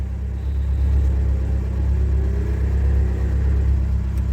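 A Ford Sierra mk1 rally car engine runs loud and close, holding a steady deep rumble with mild revving swells and no voices over it.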